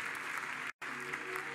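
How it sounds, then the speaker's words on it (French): Church conference audience applauding and cheering, a dense, continuous wash of clapping with a brief cut of silence midway. "je voudrais vraiment qu'on la reconnaisse par des acclamations"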